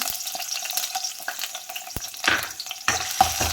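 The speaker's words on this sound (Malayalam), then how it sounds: "ഒരു ടേബിൾ സ്പൂൺ വെളുത്തുള്ളി നമുക്ക് ചെറുതായി ചോപ്പ് ചെയ്ത് ഇട്ട് കൊടുക്കാം" Finely chopped garlic frying in hot ghee, a close, steady sizzle with light crackles and occasional clinks and scrapes of a spoon stirring in the pan.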